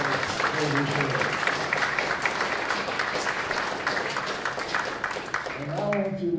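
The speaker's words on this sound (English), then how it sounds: "Please give these fine musicians the enthusiastic applause." Audience applause for musicians at a country jamboree, a continuous wash of clapping throughout, while a voice talks over it near the end.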